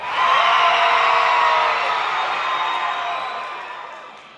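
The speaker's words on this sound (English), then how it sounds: "I get to use my applause sound effect." A canned applause sound effect played at an awards show, a burst of crowd clapping and cheering with whoops that swells quickly, then gradually fades over several seconds.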